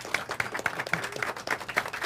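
Applause at a food-industry awards event, a modest crowd clapping in a quick irregular patter, moderately distant and fairly soft, lasting a couple of seconds with no voices over it.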